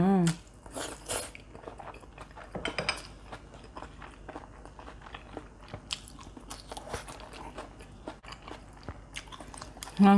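Someone eats a Vietnamese steamed rice roll (bánh cuốn) dipped in fish sauce, with soft, wet chewing and occasional bites close to the mic, and brief vocal sounds at the start and end.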